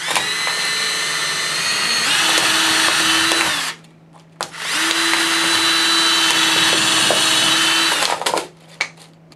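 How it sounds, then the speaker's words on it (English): A power drill boring down through layers of plastic soda bottles whines loudly in two long bursts with a short pause between, its pitch dropping slightly as it bites, then stops. "take the drill and drill down through all the layers on both sides of the handle."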